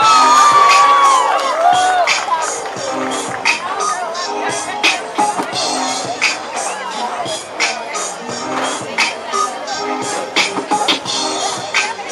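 Rodeo stands at a state fair cheering for an Oahu cowboy, with loud sustained crowd noise, whoops and whistles, and bursts of yelling and applause under an announcer's voice.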